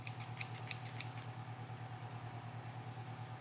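A rough pair of scissors in a Texas sharpening shop is opened and closed several times, giving quick metallic snips and scrapes in the first second and a half, then a steady low hum.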